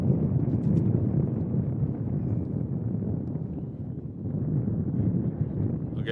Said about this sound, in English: on a super windy spring day